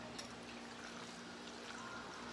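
Spicy sauce with lemon and pepper is poured over shrimp for a shrimp bake, giving a faint, steady trickle and splash of liquid with no talking.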